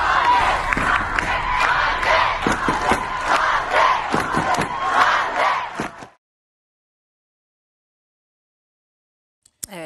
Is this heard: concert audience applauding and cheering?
yes